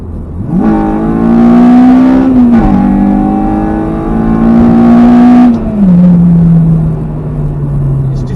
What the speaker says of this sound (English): How can you not love VTEC?